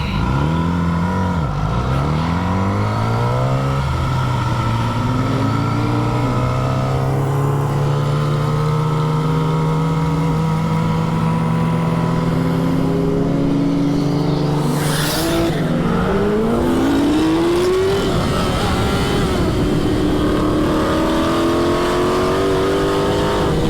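Loud Yamaha R6 sport motorcycles revving hard and passing, their high-pitched engine whine climbing and falling through gear changes as they roar by close, continuous and without talk.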